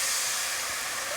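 Alcohol sizzles hard in a pan as pork chops with peppers, onions and potatoes are deglazed, a loud, continuous close-up hiss with no pauses.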